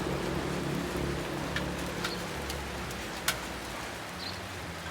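Rain falling steadily outdoors, a dense even patter of drops with a few sharper individual splashes standing out, moderately loud and without speech.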